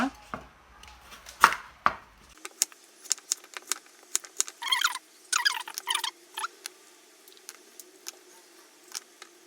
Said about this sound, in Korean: 갈비는 무를 넣고 큼직큼직하게 썰어주세요.